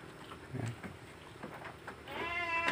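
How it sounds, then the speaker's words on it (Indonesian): Goats and sheep feed on fresh grass silage made from odot and pakchong grass, with soft scattered munching and rustling noises, then a clear nearby bleat near the end. "Untuk kambing-kambing dan domba-domba saya, ini semua makan dengan lahapnya."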